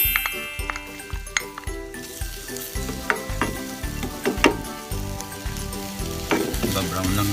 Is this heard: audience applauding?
no